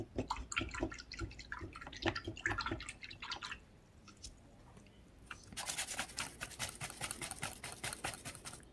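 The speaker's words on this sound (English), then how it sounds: "Always close your pot, just washing off my brush." Paintbrush being swished and rinsed in a water pot while painting a model, with soft irregular drips and sloshing, then a denser run of light splashing taps near the end.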